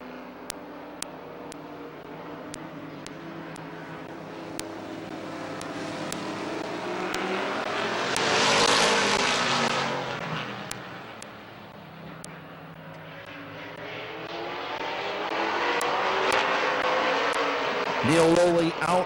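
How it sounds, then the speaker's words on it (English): Late model race cars run a heat race at Midvale Speedway, their engines droning and swelling as the pack sweeps past, fading, then building again. A public address announcer talks over the roar. "We're going to be going 8 circles around Midvale Speedway with our 3rd late model heat race of the evening."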